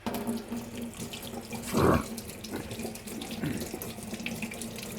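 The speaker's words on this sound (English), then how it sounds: "once again I have to rinse my fingers." Water from a running tap splashes steadily into a sink while fingers are rinsed, with a brief louder gush near the two-second mark and continuous flow throughout, close by and without any talk.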